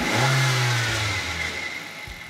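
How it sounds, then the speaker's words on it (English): A car engine revs sharply as the throttle is snapped open during an engine vacuum test, a loud low roar that surges and then settles back toward a steady idle, close to the microphone with no talking. "we're gonna go ahead and snap the throttle"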